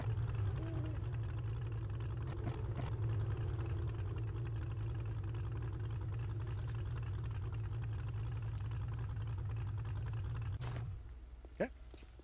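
In the video game 7 Days to Die, a truck engine runs with a steady, heavy low drone under a person talking, then cuts out abruptly near the end.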